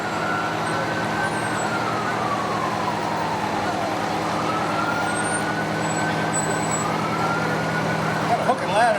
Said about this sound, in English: Got a hook and ladder there.